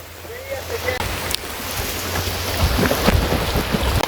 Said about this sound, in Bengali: বাট বৃষ্টিটা জবরদস্ত হইতেছে